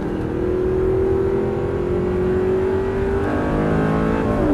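An Audi R8 4.2 accelerates hard on a track, the engine whine rising steadily and loudly for several seconds before a gear change, a continuous close-up roar with no voices.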